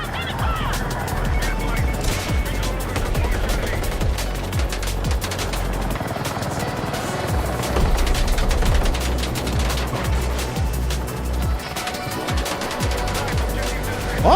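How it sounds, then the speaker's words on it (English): Gunner firing on a tank in the video game Battlefield 6. Dense, continuous rattling bursts of machine-gun fire and impacts run loud through the whole stretch, with voices talking over the chaos. "how is that gunner shooting us from that range?"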